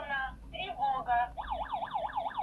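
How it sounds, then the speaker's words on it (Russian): A Kerui W18 GSM/Wi-Fi home alarm system's siren sounds: a few stuttering warbles, then a steady rapid wailing sweep that rises and falls repeatedly. It is loud and close, with a low hum underneath. "Срабатывает сирена."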